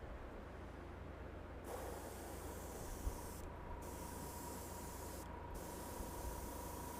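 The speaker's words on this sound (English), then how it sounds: "we're going to spray our gold over this entire surface now" Spray can hissing steadily as gold paint is applied over a 1:350 scale Enterprise refit starship nacelle, a continuous close airy spray with brief pauses and no voices.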